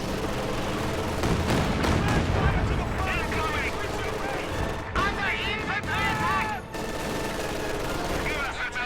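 Bursts of machine gun fire and booming artillery rumble through a Company of Heroes 2 battle, dense and continuous, with a commentator talking over the combat.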